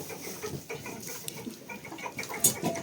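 Soft clucking from chickens let out in a yard, over a faint outdoor background, with a few sharper bird calls toward the end.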